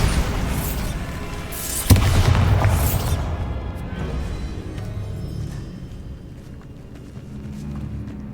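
A Bombarda spell explosion in a tomb in Hogwarts Legacy, with a sharp loud blast about two seconds in over ongoing rumble, then a long fading tail of debris and low ambient noise.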